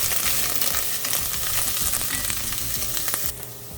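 Aromatics sauté in a pot for pinto beans cooked in turkey stock, a steady close sizzle with crackling pops and stirring scrapes, quieting abruptly near the end, no voices.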